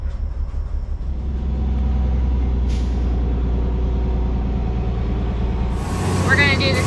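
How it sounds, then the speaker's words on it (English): A concrete truck rumbles with a deep, steady engine drone as it pulls around a barn being converted to a horse stable, with brief air hisses and a louder surge near the end. "The concrete truck is gonna pull around back now"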